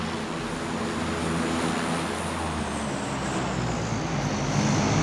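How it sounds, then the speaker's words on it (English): Propeller airplane droning overhead in PUBG, a loud continuous engine roar holding steady throughout and swelling slightly toward the end, no talk. "Using the sound of the plane to cover"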